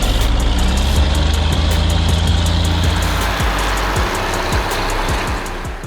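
A loud diesel engine of a Favorit 622 LS tractor in a farming video game runs steadily, rumbling low with a rapid rhythmic chugging that holds level throughout.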